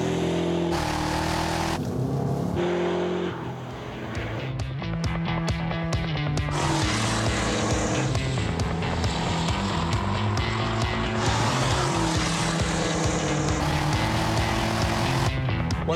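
HSV GEN-F cars run on a test track, engines droning and revving through rising and falling gear changes, loud and close, with music-like tonal layers blending into the steady mechanical roar.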